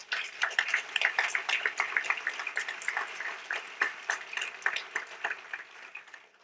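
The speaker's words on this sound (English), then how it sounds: "A round of applause." A banquet audience at a hall of fame dinner breaks into steady applause, a dense, fairly distant wash of many hands clapping that holds for several seconds.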